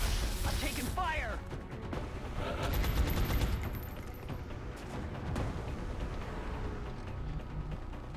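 Gunfire in the XCOM: Long War video game, rapid bursts of automatic shots and crashing impacts at moderate level, with someone talking over the fighting.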